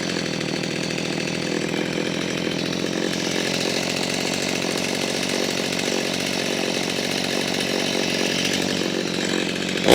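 A chainsaw engine runs steadily and loudly for the whole stretch, its idle rough and stumbling with an uneven, wavering buzz and no voices over it.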